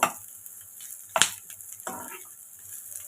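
Vegetables frying in a pan for vegetable pulao, a soft background sizzle broken by a few sharp clattering stirs of a spoon against the pan.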